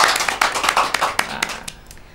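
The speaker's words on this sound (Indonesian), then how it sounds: "Tepuk tangan dulu dong." A small group claps for a guest on a podcast set, a short burst of quick overlapping claps that thins out and fades within a couple of seconds, heard alone without talk.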